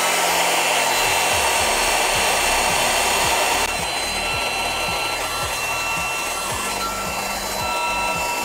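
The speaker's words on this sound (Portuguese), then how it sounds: "a gente liga o famoso secador de cabelo." A hair dryer blowing on a Ryzen 9 3900 CPU mining PC whirs steadily and loudly close by, a constant airy roar with a shift in pitch partway through, and no voices.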